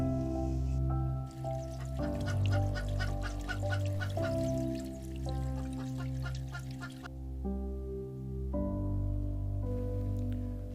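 Several hens, including a Wyandotte, cluck in quick bursts close by while steady sustained musical tones play underneath throughout.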